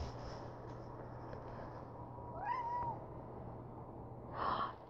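A kitten meows twice, a short rising-falling cry midway and a brighter one near the end, fairly close against a quiet indoor hum.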